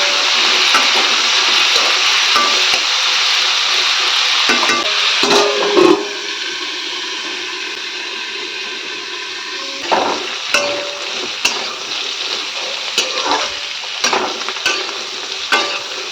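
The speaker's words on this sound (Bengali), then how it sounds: "কাঁকরোলটাও ভাজা ভাজা হয়ে গেছে" Sliced spiny gourd (kakrol) fries in oil in a pan, giving a loud, steady sizzle close by. Repeated scraping and clattering from stirring runs throughout, with no voices.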